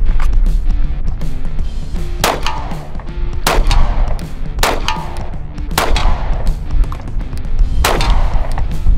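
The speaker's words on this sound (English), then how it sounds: "So let's draw and shoot a couple rounds" Handgun shots after a draw from a concealment holster, about seven sharp loud cracks at irregular intervals of roughly a second, close by, with a ringing clang after each report and no talking.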